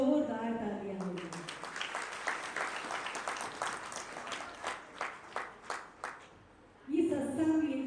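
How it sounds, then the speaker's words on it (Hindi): An audience at a religious katha gathering applauds the guru, dense clapping following a voice, thinning into a few spaced claps before a voice resumes. "मेरे प्यारे गुरु जी के लिए एक बार जोरदार तालियां होगी"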